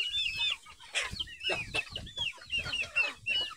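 Village chickens on a farm cluck close by in a lively, steady string of sharp calls, clear and unbroken across the whole stretch.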